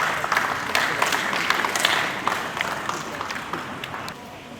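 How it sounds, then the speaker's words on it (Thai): Audience applause welcomes an executive of the Lawn Tennis Association of Thailand onto the stage at a women's singles tennis award ceremony, a dense, steady wash of many hands clapping that fades slightly toward the end. "ขอเสียงปรบมือต้อนรับ"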